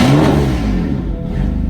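A BMW M4 fitted with an ARMYTRIX exhaust revs loudly and close by, a brief throaty engine roar that rises and holds without any talk.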